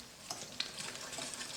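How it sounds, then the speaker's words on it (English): Pancake batter with cooking oil and an egg being mixed in a bowl, a soft close swishing of whisking with a couple of light taps against the side, faint and brief. "2 tablespoons of normal cooking oil, and 1 egg. Now we're just gonna mix."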